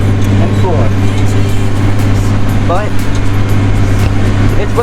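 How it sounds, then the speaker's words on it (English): A tractor engine drones steadily inside the cab, a loud, constant low rumble running throughout while a person talks over it. "to have this tractor that I'm in right now"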